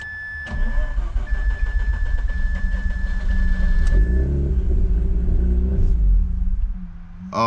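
A project car's engine cranks, catches and runs roughly for several seconds before cutting off, loud and close in a garage setting with a rumbling low tone.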